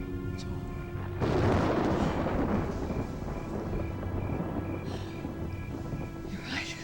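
Thunderstorm with lightning and wind in a TV drama scene, a sudden loud thunder rumble rolling for several seconds over a steady background hum, fading away, with faint voices near the end.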